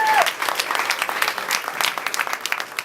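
Crowd clapping at a community gathering as organization officers are introduced, a full burst of many hands that stays strong and even for a few seconds, a voice briefly audible at the very beginning.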